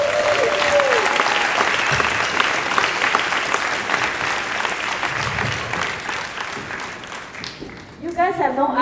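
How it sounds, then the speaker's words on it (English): An audience bursts into dense, sustained applause at a business sharing event, loud and continuous for several seconds, then fades as voices come in near the end. "let's give a round of applause to my S-Square manager"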